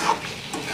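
Food frying in a pan is stirred and turned through a short, fairly quiet burst of sizzle, with a light scraping swell near the start and again toward the end.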